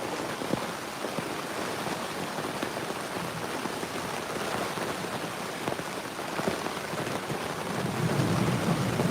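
Heavy rain pours steadily through a thunderstorm at night near a parked truck, with rumbling thunder rolling underneath and a louder surge of rain toward the end; no voices.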